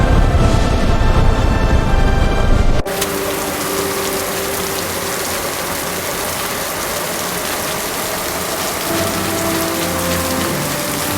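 Rain falling steadily in a dense, continuous patter on surfaces, after a brief louder rushing burst at the start, with no voices.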